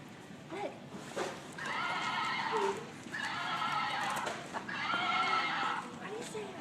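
A horse at a Tractor Supply farm store whinnies three times in drawn-out, shrill bursts, with store chatter and background noise between the calls.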